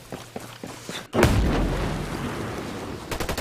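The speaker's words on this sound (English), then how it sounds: "Grenade." A grenade detonates in the game Ghost Recon Breakpoint, one loud, close boom with a long rumbling tail, preceded by a few small clicks and sharp pops and followed by rapid gunfire near the end.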